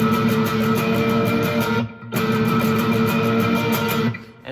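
Electric guitar strummed steadily with a bent string, a loud, dense wash of chords that breaks off briefly near the middle and resumes, fading at the end.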